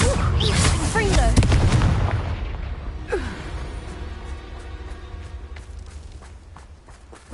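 A fiery Confringo spell blast booms loudly in Hogwarts Legacy, a heavy burst at the start that rumbles and decays over several seconds amid scattered impacts and footsteps.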